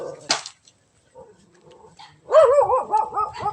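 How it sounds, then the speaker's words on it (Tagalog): Outdoors at a home in a residential neighborhood, a dog gives a sharp bark, then after a quiet pause a run of loud, close, yipping barks and whimpers, with a person speaking faintly in between. "Yan, tumawal ni aso."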